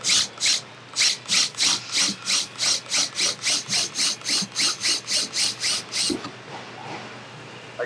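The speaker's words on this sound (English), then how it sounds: "So when you're drilling this, just kind of nice and slow and easy" A power drill bores a hole in the frame of a Four Wheel Campers truck camper in a slow, careful series of short bursts, about twenty evenly spaced pulses close by. A softer, steadier grind follows at the end, with no talk.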